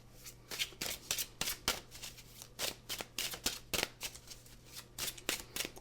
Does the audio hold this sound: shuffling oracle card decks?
yes